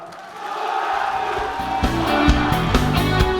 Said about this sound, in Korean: 다시 한번 큰 박수로 화답해 주시길 바라겠습니다